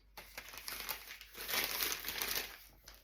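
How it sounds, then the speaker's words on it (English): Scissors trim through paper up close, with quiet crinkling and snipping that swells in the middle and then fades. "I will trim that down with some scissors"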